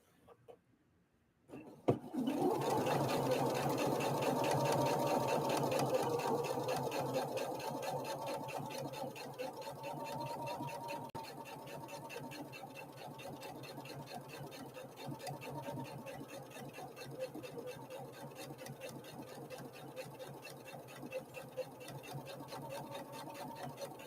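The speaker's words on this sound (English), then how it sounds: "let's do this final sew off with a straight stitch" A Husqvarna Viking Opal 650 sewing machine runs a straight stitch, starting after a brief pause with a loud, steady whirring hum that eases slightly and then continues evenly. No one speaks.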